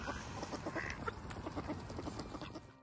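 Ducks quack up close while being fed bird seed, a busy run of short overlapping calls over soft background noise, fairly faint overall with no clear talk.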